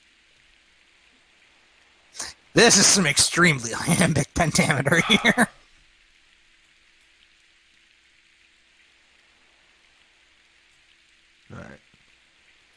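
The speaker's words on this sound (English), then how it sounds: "and oh hey, it's raining." Steady rain in the Fire Emblem: Path of Radiance video game, a soft, even hiss running the whole length, with someone talking loudly over it in the early part.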